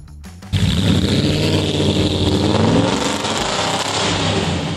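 A 1969 Morgan Plus 8 Roadster engine bursts into life and revs hard, a loud, close, steady roar that holds for several seconds with no talk.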